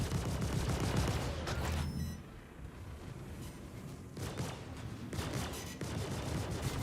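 Rapid weapon fire in a space-combat training video game, loud dense bursts that cut out around two seconds in, return softer in the middle, then swell again near the end, with a synthetic alert voice announcing over it.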